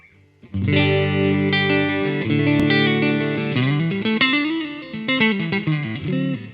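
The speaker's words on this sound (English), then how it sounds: "I'm gonna start with the neck pickup in single coil mode," Clean electric guitar played through the neck pickup in single-coil mode on a headless PM Delos, a run of ringing chords and picked notes with a touch of reverb, loud and alone.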